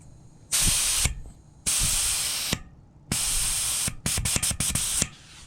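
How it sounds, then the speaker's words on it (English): Air hisses out of a Presta valve on a bike tire in loud, close bursts: two long releases, a longer third, then a string of short rapid pushes. "What's nice about a Presta valve is it gives you the option to precisely lower your tire pressure"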